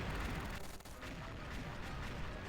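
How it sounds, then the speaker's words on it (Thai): Rapid gunfire from a rainbow unicorn-skinned AK rifle in the shooter game XSHOT, firing as a dense, continuous loud burst with a brief dip partway through. "เราก็ยิงทิ้งมันแม่งเลย"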